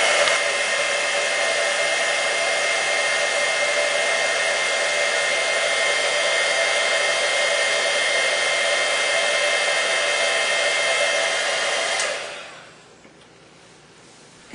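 A heat gun blows continuously while heating a chipboard letter, a steady loud whooshing hiss for about twelve seconds that then cuts off into near silence.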